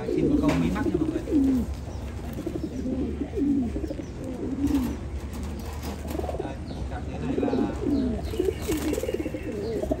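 Several pigeons coo steadily in low, repeated throaty phrases inside a breeding loft housing pure white eyelash pigeons and newly hatched squabs, a constant murmur with overlapping calls and faint background noise.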